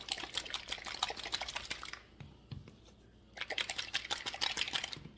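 Paint bottles are shaken hard, giving a fast, close rattling that runs for two seconds, pauses briefly, then starts again.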